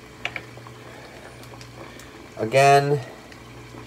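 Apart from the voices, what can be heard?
eggs boiling in a pot of water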